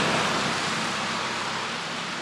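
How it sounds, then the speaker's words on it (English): A small roadside waterfall in the Great Smoky Mountains, a steady broadband rush of falling water, close and continuous with no voices. "So here's the little waterfall."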